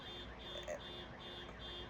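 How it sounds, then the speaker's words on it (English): A car alarm sounds faintly in the distance, repeating a steady high beeping pattern about every quarter second, heard indoors under low room noise. "The alarm just started going off out of nowhere"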